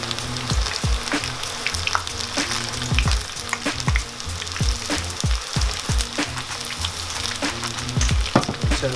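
Vegan pakoras bubble and crackle in hot oil, a dense sizzle studded with frequent sharp pops and spits throughout, close and fairly loud with no talking.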